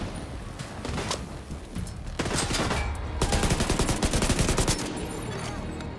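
Gunfire in the shooter The Division II: scattered shots give way to a rapid automatic burst that rattles loudly for a couple of seconds, close and sharp, over background combat noise.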